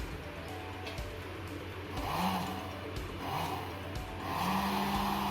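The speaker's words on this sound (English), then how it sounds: "Now the heat blower is continue on." A heat blower runs continuously as the heat source for a thermoelectric waste-heat power generation rig, giving a steady whooshing drone with a few rising tonal whines on top.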